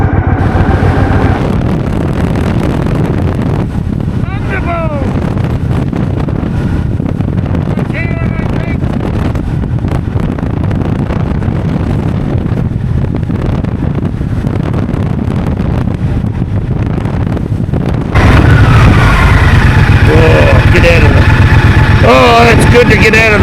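Steady, heavy wind roar buffeting the microphone while riding a motorcycle on the road, continuous and loud throughout, growing harsher and brighter near the end.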